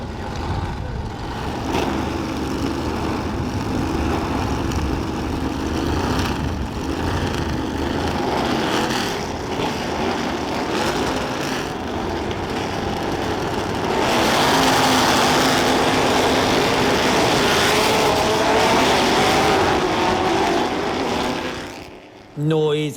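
Six-litre race cars rev on the starting grid at the Goodwood Revival, a dense, continuous engine roar with a louder surge of revving toward the end before a brief cut.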